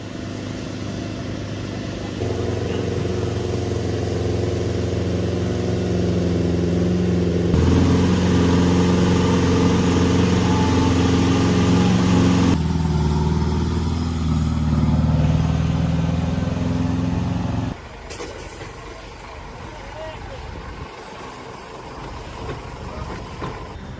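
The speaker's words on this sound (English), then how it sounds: "Trucks and buses skid downhill on slippery mountain roads." Heavy trucks and buses rolling downhill on a steep, slippery mountain road, a loud continuous engine drone that shifts in pitch and intensity in several stages before dropping to a quieter rumble.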